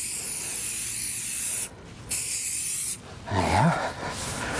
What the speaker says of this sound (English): I'm going to quickly spray this way, just to get it into maybe areas that it didn't